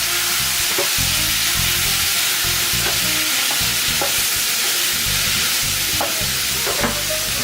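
Goya champuru frying in a pan as soy sauce goes in, making a loud, constant sizzle with regular scraping and stirring knocks throughout, no voices.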